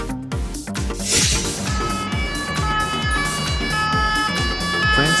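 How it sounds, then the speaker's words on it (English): A French police car siren wails continuously with a rapid, repeating falling sweep, loud and close, over a steady background of engine and road noise. "France Police Car."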